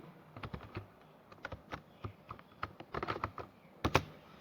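Keys clatter on a computer keyboard while C code is typed: a near, irregular run of crisp clicks that grows denser toward the end, heard alone with no talk.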